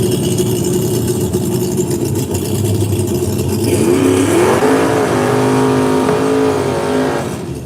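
A Chevy Malibu race car at a no-prep drag event revs loudly and steadily nearby, its engine note climbing and wavering through several throttle blips over a constant roar.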